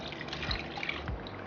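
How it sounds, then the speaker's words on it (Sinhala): Water is poured into chicken curry in a large pot, a soft, close trickle with a couple of brief splashing drips. "දැන් අපි මේ වතුර ටික දාගමු."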